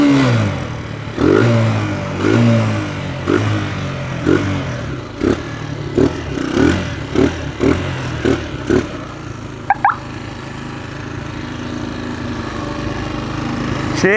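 A motorcycle arrives and revs in a run of short, sharp throttle blips, loud and close, then settles to a rough idle before one last brief burst.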